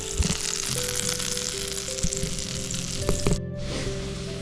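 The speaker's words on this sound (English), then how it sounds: "Now that we've got our oil getting hot, just throw in some butter there. All right, that's sizzling." Steady, dense sizzling and frying crackle of butter melting in hot oil in a pan, close and continuous, with a few soft clinks and a brief drop near the end.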